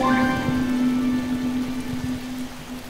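Steady rain falls in the Spore video game, an even hiss of drops with a sustained tonal drone underneath and no talk.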